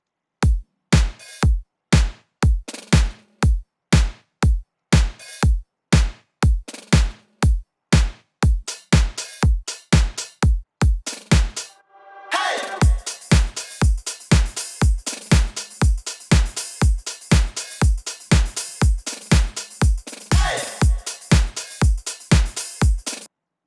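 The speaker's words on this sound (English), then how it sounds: "I just have a very simple drum pattern, just made up of a kick, a snare, and some hi-hats, and a few effects" Electronic drum pattern of kick, snare and hi-hats with a few effects, built in Logic Pro X: steady, evenly spaced punchy hits throughout, joined halfway by a dense, washy layer of cymbal and effect texture.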